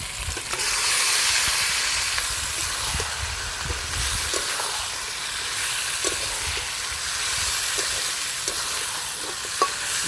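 Chicken meat fries in a pan with ground spices, a steady loud sizzle and hiss running throughout with occasional stirring scrapes, no voices.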